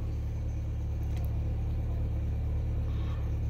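Idling car engine warming up before setting off, a steady low rumble with a constant hum, close and unchanging throughout with no voices.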